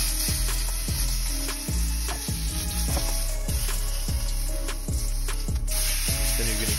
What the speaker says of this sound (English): you're then going to start searing the steak